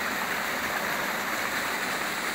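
A mountain waterfall feeding a river stream gives a dense, even rush of falling water. The hiss is steady and close throughout, with no voices.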